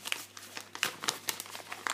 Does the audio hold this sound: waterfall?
no